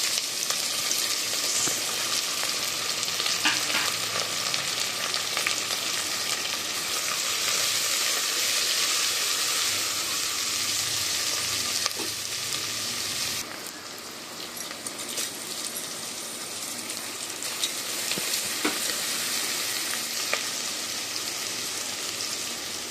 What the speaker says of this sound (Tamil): ஒரு பெரிய சைஸ் வெங்காயம் 2 நல்லா வதங்கட்டும்.